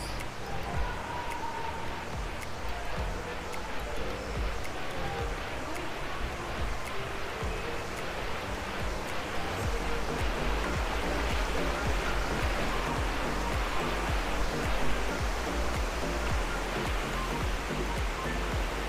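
A waterfall at Villa Azarcon Mountain Resort in Tago, Surigao del Sur, pours in a steady, dense roar of rushing water that stays loud and even throughout, with faint voices now and then.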